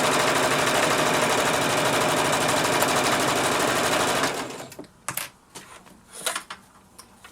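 A sewing machine stitching forward and then back to lock the seam, a rapid steady mechanical whir that stops abruptly, followed by a few scattered clicks and handling noises.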